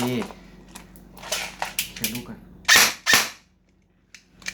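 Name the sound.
toy gun firing with a stiff spring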